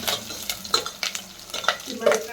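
Curry leaves, dried chillies and asafoetida crackle and sizzle in hot oil for a tempering, with a spoon stirring and scraping the pan in uneven bursts, close and fairly loud.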